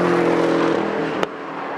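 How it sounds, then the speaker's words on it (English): Steady, loud drone of a Porsche Cayman 718's turbocharged flat-four engine, holding an even tone before a brief click and a slight drop in level. "It's a turbocharged engine, flat four, 365 horsepower."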